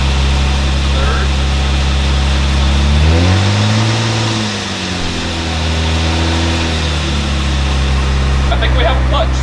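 Toyota Supra engine with a freshly installed clutch pulling hard up through the gears, loud and close, revs climbing, dipping at each shift and climbing again, with a brief burst of noise near the end.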